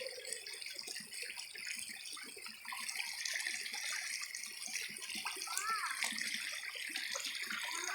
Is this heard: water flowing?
yes